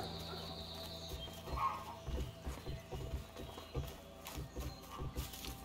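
Hooves of a horse in the video game A Way Out clop in an uneven walking rhythm, soft and close, over quiet game ambience, with a brief whinny-like call near the start.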